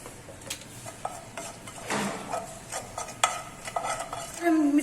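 Salt, dry chili, amchur and coriander powder roast in oil in a pan, giving a soft sizzle broken by clinking and scraping stirring strokes, close by and without talking.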